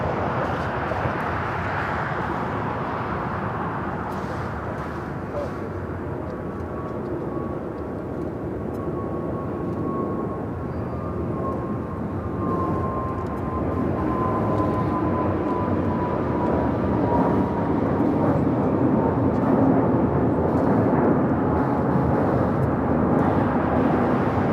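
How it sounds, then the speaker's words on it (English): A Frontier Airbus A320neo takes off at LAX, its jet engine roar rumbling broadly and steadily, growing slightly louder over the second half as the aircraft powers down the runway, heard from a distance without voices. "Next takeoff is that Frontier A320neo heading to Salt Lake City"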